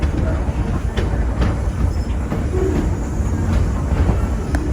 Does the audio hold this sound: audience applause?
no